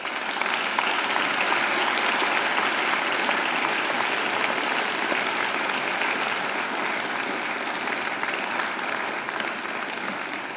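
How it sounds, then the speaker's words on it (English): Graduates at a university graduation ceremony turn to give their families and friends a long, steady round of applause, a dense, even wash of clapping from a large crowd filling a hall, sustained without a break. "I invite you to give them a mighty round of applause"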